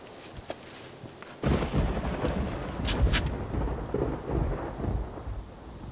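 Rain pours down steadily with heavy, crackling patter that starts abruptly and continues, a deep rumble of thunder mixed in.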